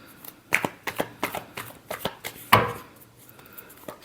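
A deck of tarot cards is shuffled up close in quick, crisp riffles and taps, a run of sharp snaps with one louder slap partway through, and no talking over it.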